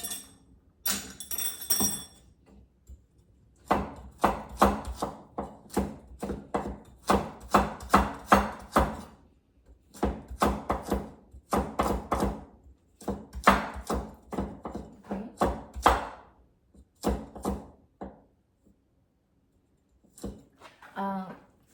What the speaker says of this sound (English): Carrot is a little bit hard, so when you chop it, it's better to hold the breath and focus.